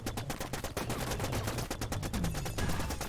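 Rapid automatic gunfire from a weapon in the sci-fi game The Signal From Tölva, a dense, steady stream of sharp shots rattling continuously, loud and close with no talk over it.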